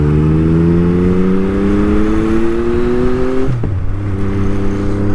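A 2021 Yamaha MT-09 motorcycle fitted with an Akrapovic exhaust drones at steady revs, its pitch holding then dropping sharply before settling into a lower, even note, loud and close.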